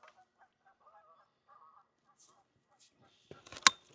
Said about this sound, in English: getting to hear the geese in the pond